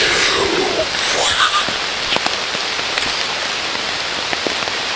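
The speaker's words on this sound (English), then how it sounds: "Pouring down rain." Heavy rain pours down steadily outdoors during a deer bow hunt in New York, a dense hiss of drops striking a surface close by, with a few sharper splashes standing out.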